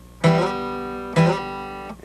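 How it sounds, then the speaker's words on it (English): Two bright flatpicked bluegrass guitar notes are each slid along the string, then a finger comes right off it so the tone cuts short instead of sustaining, alone and close. "You don't want to slide and let your finger come right off the string."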